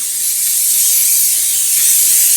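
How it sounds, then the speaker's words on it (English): A steady, loud aerosol hiss of cooking oil spray onto a well-used pan runs continuously for a couple of seconds without pause, bright and close. "we're going to spray our well-used pan with some oil"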